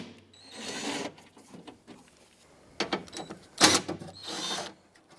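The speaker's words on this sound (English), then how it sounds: "with the same 10mm socket, let's loosen up this bolt." A 10mm socket loosens a bolt on a 2001-2007 Toyota Highlander front door in a few short, close bursts of ratcheting and metallic clicking, separated by quiet gaps. One sharp bright clack stands out near the end.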